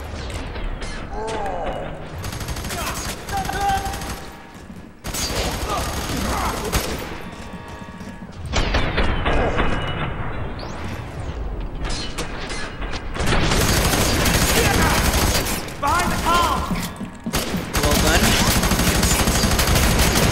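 Rapid automatic gunfire sprayed from a weapon in the co-op shooter Fear 3, dense bursts running nearly the whole stretch with brief gaps, loud and close, mixed with game sounds and players talking over it.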